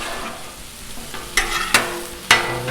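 Taco melt ingredients and garlic frying on a Blackstone griddle, a steady soft sizzle punctuated by three sharp scraping spatula strikes, close and alone without talk.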